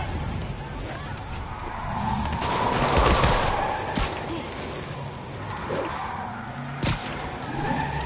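Gunfire and revving engines as prisoners shoot from stolen vehicles in a Spider-Man game, with rattling shots and cracks over a continuous roar of traffic and motion, mid-distance and fairly dense.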